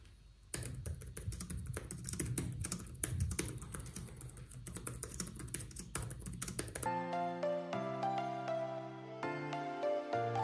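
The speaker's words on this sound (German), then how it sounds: "Die Tasten haben einen angenehmen Tastenhub und ein gutes Feedback, was das Schreiben sehr angenehm macht." Rapid, continuous typing on the keyboard of a Lenovo ThinkPad X1 Yoga 6th generation laptop, close and crisp, for about seven seconds before music takes over.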